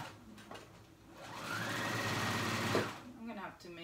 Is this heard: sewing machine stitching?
yes